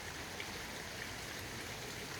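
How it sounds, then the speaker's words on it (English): Steady rain falls on a sunny day outside a Victorian house under restoration, giving a constant even hiss of drops with no breaks and no talking. "have you ever seen the rain coming down on a sunny day?"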